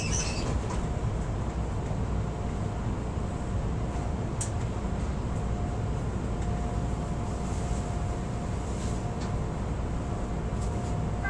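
A Chicago Brown Line train running toward Kimball produces a steady rolling rumble heard from inside a car, with a faint tonal whine and a few light clicks over the continuous noise.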